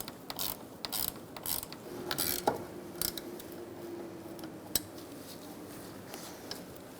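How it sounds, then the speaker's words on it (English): Locking pliers squeeze a radiator hose clamp on a 2014–2019 Kia Soul 1.6L L4, making faint metallic clicks and ratcheting snaps at irregular intervals over a steady background hum, close but quiet. "Using a pair of locking pliers, I'm going to squeeze this hose clamp and tighten my locking pliers down"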